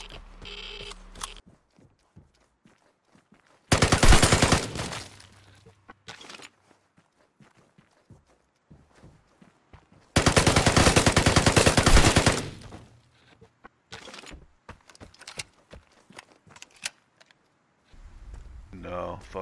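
Bursts of rapid automatic gunfire in the video game Vigor, two long loud volleys with scattered single shots and footsteps in between, and players talking over the action.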